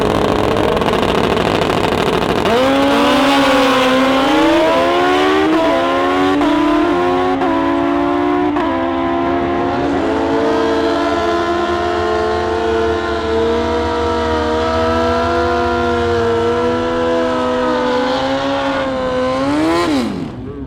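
A heads-up drag racing car at Toronto Motorsports Park roars off the line and screams down the strip, engine loud and close, pitch rising through repeated gear shifts for about twenty seconds with no talking.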